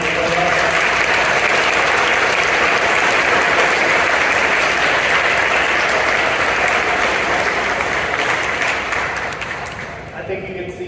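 A large summer program audience gives the counselors a loud, sustained round of applause that stays dense and even for about ten seconds before easing off at the end.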